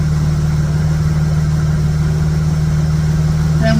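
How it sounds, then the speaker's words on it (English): A Dodge engine fitted with a Stromberg BXVES-3 carburetor idles steadily during carburetor tuning, a close, loud, even low rumble with a constant hum throughout. "Back it off until we get a smooth idle."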